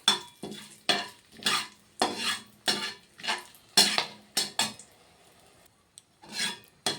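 Whole spices, cardamom, cinnamon and cloves, fry in ghee while a spoon scrapes and stirs them in rhythmic strokes about once a second, close, with a soft sizzle underneath and a brief pause near the end.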